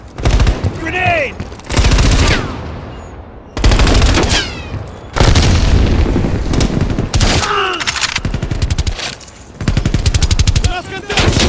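Heavy gunfire and blasts in the Black Ops Cold War shooter, with loud bursts of automatic fire broken by short pauses and shouted voices in between.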